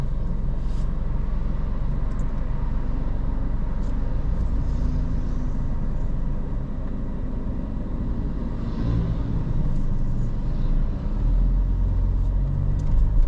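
Car driving through busy traffic on a street in Hua Hin, Thailand, with a steady low engine and road rumble running throughout, loud and continuous.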